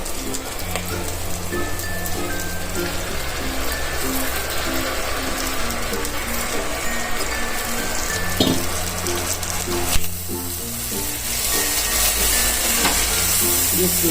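Vegetable khichdi sizzling in a pan while being stirred, a continuous loud crackling fry with rhythmic scraping, and a tonal hum running underneath.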